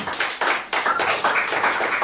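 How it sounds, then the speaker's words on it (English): Audience clapping for a singer at an African Caribbean diaspora women's summit, a dense, steady burst of many hands close by, with a brief dip before it picks up again. "Can we give her a round of applause?"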